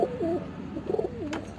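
Pigeons cooing in a pet shop, a few soft warbling coos close by with faint background clatter.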